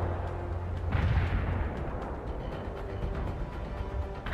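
Artillery fire in the World in Conflict video game booms and rumbles heavily in a sustained barrage, loud and dense with overlapping blasts, under a steady battlefield din.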